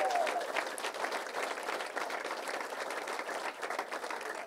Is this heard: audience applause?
yes